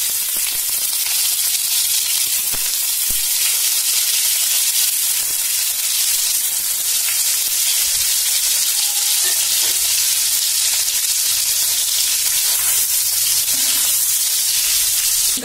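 Cubes of white paneer fry in hot oil. A loud, dense, hissing sizzle holds steady throughout with small crackles and pops, and no voices are heard.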